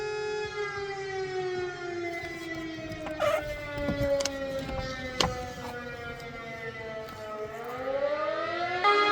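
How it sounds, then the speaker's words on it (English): A village fire department siren sounds during its monthly alarm test, a loud steady wailing tone with rising and falling pitch that holds throughout, with a few brief knocks and bumps nearby. "Why the hell do they have a sound like an alarm like this?"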